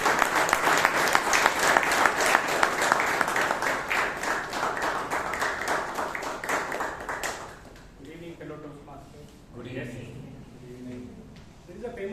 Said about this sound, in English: Toastmasters, give a huge round of applause